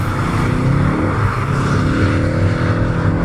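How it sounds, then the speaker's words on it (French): Ford Focus ST with a strong low-rev pull accelerates hard on a race track, the engine roaring loud and steady throughout with no talk. "Moteur, vraiment un gros couple, ça reprend depuis très bas."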